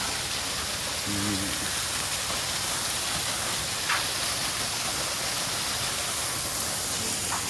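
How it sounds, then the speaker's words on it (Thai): Waterfall water pours down in a steady hissing rush at Phu Pha Yon National Park, with a brief distant tonal beep early on and a few faint clicks over the constant flow. "ก็คือน้ำตกเขาจะไหลลงมา"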